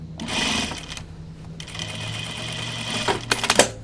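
A sewing machine stitches through thick denim jeans, with short bursts of rapid needle chatter broken by brief pauses, including a quick reverse backtack, close up and steady.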